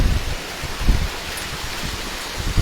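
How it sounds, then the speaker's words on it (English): Hail falling outside, a dense, continuous patter with occasional heavier bursts of strikes, steady and fairly close with no voices. "Oh my gosh, it is so much hail."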